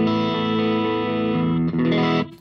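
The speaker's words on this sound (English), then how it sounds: "it came out with this kind of weird nasally sound which sounds like this." Nasal, phasey electric guitar tone from a ToneX capture of two amps recorded at once, a sustained distorted chord ringing with a chorus-like wobble, cutting briefly and returning before fading out near the end.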